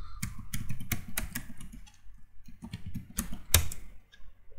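Rapid clicking of keys on a computer keyboard as a password is typed, a quick irregular burst of close, crisp keystrokes with a brief pause before a final louder tap.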